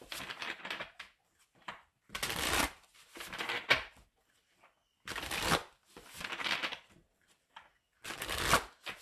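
Tarot cards are shuffled in several loud, crisp riffling bursts separated by short pauses, close up, with no talking.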